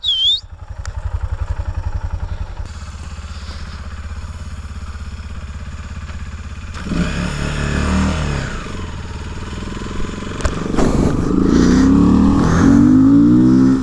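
A Honda XRE 300 motorcycle engine idles with a rough putter, then revs up loudly several times, the roar rising and falling close by, with clattering mechanical noise.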